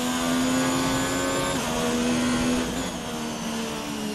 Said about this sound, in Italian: Sento un motore di quelli seri, con la turbina che fischia un botto.